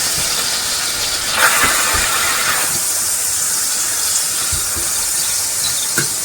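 Minced meat fries in coconut oil in a hot pan, a steady loud sizzling hiss throughout with a few soft knocks and stirs.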